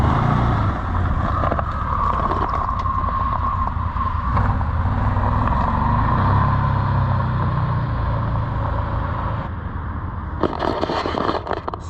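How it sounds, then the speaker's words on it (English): A Can-Am Defender Limited cab side-by-side is driven on a test run at night, its engine droning steadily with rattling and scraping over the top, and the noise eases near the end before rising again. "He's test driving a Defender Limited, which I didn't even know they made."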